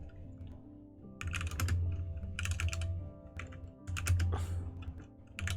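Small, loud computer keyboard being typed on in quick bursts of clattering keystrokes, two main flurries separated by short pauses, close up and alone.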